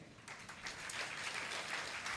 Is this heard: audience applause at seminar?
yes